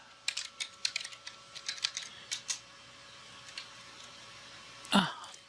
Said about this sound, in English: she's going to type in PASSWD, or password, for Sophia.